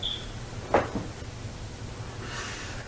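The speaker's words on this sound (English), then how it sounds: "The door just moved." A door moving open in an old house, a single brief creak and thump followed by a faint hiss, quiet and alone against low background noise.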